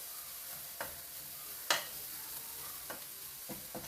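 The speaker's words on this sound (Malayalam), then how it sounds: "ഇനി നന്നായി ഒന്ന് ഇളക്കി കൊടുക്കണം. തേങ്ങയും ഏലക്ക പൗഡറും ഒരുപോലെ മിക്സ് ആവാൻ വേണ്ടിയിട്ടാണ്." Grated coconut and cardamom powder being stirred in a pan for Kerala wheat-flour ela ada filling, giving soft scraping stirs with a few sharper spoon clicks against the pan, close and fairly quiet, with no talk.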